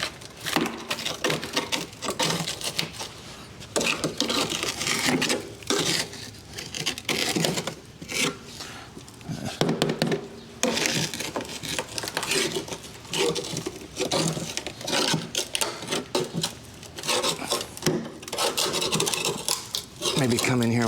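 Harsh grinding and rasping bursts from cutting across rusted sheet metal on a 1992 GMC 3500 truck, loud and near with short pauses between passes.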